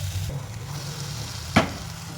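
Fish coated in gram flour batter fries in oil in a wok, giving a steady low sizzle with one sharp spatter or clink partway through.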